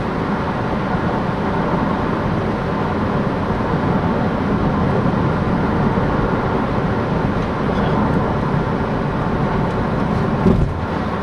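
Inside a Toyota Prius fitted with an Ewert Energy Systems conversion, running in electric mode at about 70 mph under full acceleration, a steady, loud wash of road and wind noise continues without a break.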